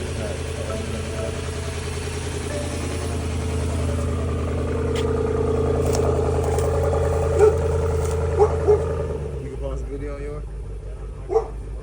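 The engine of a flood-damaged BMW M850i idles with a steady low rumble while people talk over it. The idle drops away near the end, leaving a few sharp sounds.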